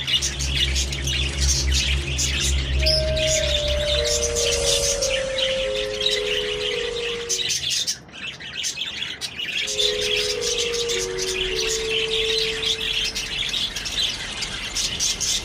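Flock of budgerigars nesting in tree hollows, a dense, constant chatter of chirps and squawks under long descending whistle-like calls, with a brief dip in the middle before the busy chirping resumes.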